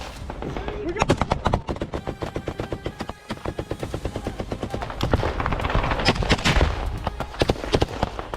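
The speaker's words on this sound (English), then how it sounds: "They immediately return fire and begin advancing." Ukrainian soldiers returning fire in combat, with dense rapid bursts of gunfire and sharp cracks repeating steadily over several seconds, loud and continuous, with some talk mixed in.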